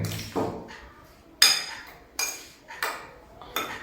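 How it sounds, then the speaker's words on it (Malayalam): A spoon stirs a mixture in a bowl, clinking sharply against the side in about five separate strikes spaced roughly a second apart. Each is close and distinct, with quiet between. "എന്നിട്ട് അതും കൂടി ഈ നല്ലോണം മിക്സ് ആക്കാൻ."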